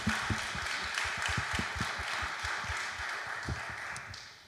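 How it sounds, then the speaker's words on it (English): Audience applause for a panel speaker at a trans visibility celebration, a dense patter of clapping hands with a few sharper nearby claps standing out, steady and moderately loud through the clip. "let's give her a round of applause."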